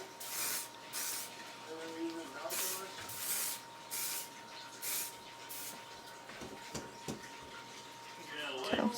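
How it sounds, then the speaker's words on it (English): Hairspray aerosol sprayed onto flower petals in short hissing bursts, about eight quick sprays with brief gaps, close and fairly quiet over a faint steady hum, with a little movement noise near the end. "Take the hairspray. Spray, try and get all down in the petals."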